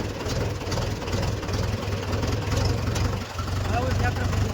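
A farm tractor, about to go out for pesticide spraying, idles with a steady low rumbling drone, loud and close, alone without talk.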